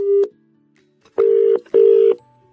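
Three short, loud electronic telephone beeps sound at even intervals after the other end hangs up, with silence between them.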